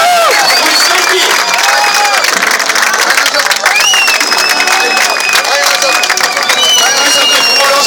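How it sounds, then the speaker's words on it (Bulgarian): A live audience at a European states' cup event breaks into loud, sustained applause and cheering, a dense wall of clapping with whistles and shouts layered on top throughout. "Аплодисменти!"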